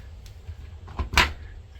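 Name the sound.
front-loading washing machine door being unlocked and opened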